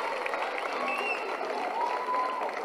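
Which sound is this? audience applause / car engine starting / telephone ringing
audience applause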